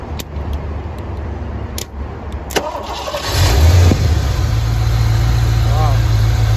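A Ford Mustang Fox body engine, unstarted for about 2.5 years, cranks and catches, then roars to life with a brief rev before settling into a steady, loud idle.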